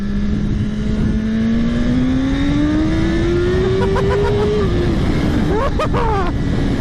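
A 2017 BMW S1000RR sport motorcycle accelerates hard, its engine note climbing steadily through the gears under loud, constant wind roar, with brief voices near the end.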